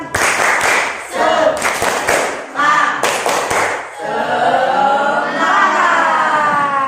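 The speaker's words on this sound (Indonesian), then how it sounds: "Yuk, 1, 2, 3, tepuk semangat." A group claps hands in a quick rhythmic pattern of short bursts, loud and close, then voices carry on together afterward.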